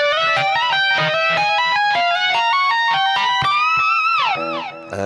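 Distorted electric guitar plays a slow solo lick, loud sustained notes moving up and down, ending with a falling bend.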